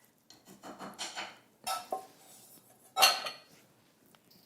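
Beaten egg whites folded by hand into waffle batter in a bowl, heard as a few soft, close scraping and swishing strokes with faint clinks of utensil against the bowl, no talking.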